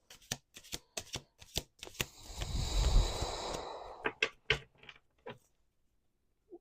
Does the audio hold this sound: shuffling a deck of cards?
yes